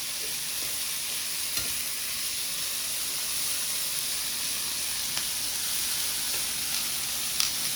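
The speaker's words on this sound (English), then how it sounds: "toss the beans around so they get coated with some of the bacon fat and the flavor from the garlic and the shrimp" Beans, shrimp, garlic and kale sizzling in bacon fat in a single pan, a dense, even hiss of frying with a few faint stirring clicks, close and continuous, with no voices.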